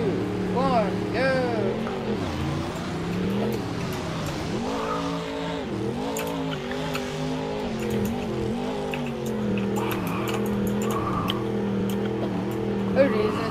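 Racing vehicles Bigfoot and Mohawk Warrior during a Nashville race, engines whining and revving in steady rising and falling sweeps, moderately loud and continuous, with voices talking over the motor noise.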